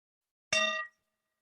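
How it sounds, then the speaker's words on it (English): A single strike on a meditation bell or singing bowl at a spiritual-living service rings out as one bright metallic tone with layered overtones, cut off after about half a second. "I am going to ring our bell."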